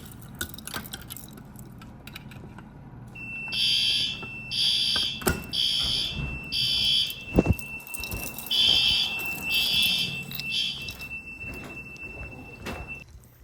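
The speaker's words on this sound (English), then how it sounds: "Getting the ambient and alarm for the library." A Notifier NFS2-3030 fire alarm system's audible devices sound in a library, giving loud regular beeping pulses over a steady high tone, with a few knocks and clatters in the room.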